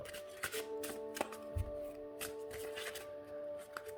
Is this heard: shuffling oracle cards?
yes